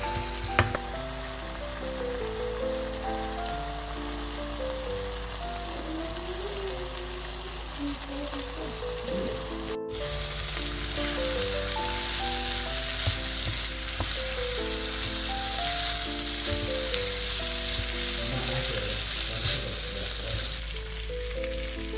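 Meat browning in a pan, a loud steady sizzle running throughout. Occasional stirring noises sound alongside a tonal musical backing.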